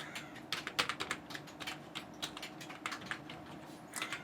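Someone types on a computer keyboard, a quick irregular run of light plastic key clicks with short pauses, close and fairly quiet, with no talking.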